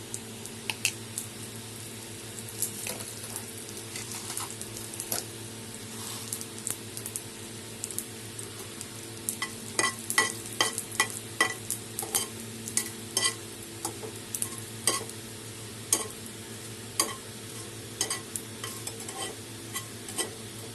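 Nigella seeds and two dried red chillies temper in hot oil for aloo chokha, giving a quiet, steady sizzle under sharp crackling pops and stirring clicks that grow busier midway, close up and without voices.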